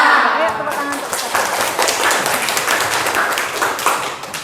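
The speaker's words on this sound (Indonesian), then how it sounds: "Ayo tepuk tangan untuk kita." A classroom of schoolchildren clap their hands together on a teacher's cue, a brisk burst of many small hands clapping that carries on steadily, with some voices underneath.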